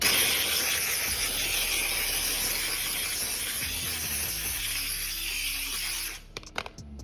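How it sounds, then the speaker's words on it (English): A steamer blasts a loud, steady hiss of steam onto car exhaust tips for about six seconds, close up, then cuts off, leaving a few faint clicks. "I'm gonna hit it one more time with the steamer."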